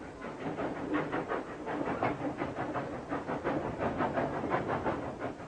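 A train carrying a king's body back to Belgrade runs with a steady rhythmic clickety-clack of wheels over rail joints and a hiss, moderately loud and unbroken, with no voices.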